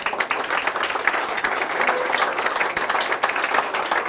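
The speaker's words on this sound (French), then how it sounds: "et je vous demande de l'applaudir." A hall full of people applauds Stéphane Mardikian, a representative of a Belgian association, with sustained, even clapping that fills the room from start to finish.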